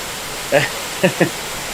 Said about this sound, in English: It just started pouring outside.